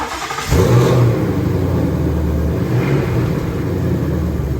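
A 2020 Ford Mustang 5.0 V8 with a ported intake manifold and a 10-speed transmission catches and settles into a loud, steady idle close by, with a brief swell in engine note partway through.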